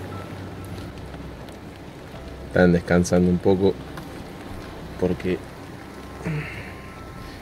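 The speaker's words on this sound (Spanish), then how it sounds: "miren lo que llueve, miren." Heavy rain pours steadily during a fishing trip, a dense continuous hiss running throughout while someone speaks in Spanish over it.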